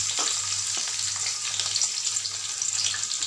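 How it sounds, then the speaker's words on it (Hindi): Onions frying in hot oil for a gajar ka salan (carrot curry), a steady, close crackling sizzle with small pops throughout, no voices. "और इसको भूनेंगे।"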